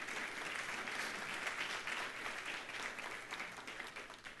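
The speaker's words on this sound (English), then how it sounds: "give them a hand clap" Congregation applauding a confirmation class during a church service, a dense, even spread of clapping held at moderate, slightly distant level for several seconds.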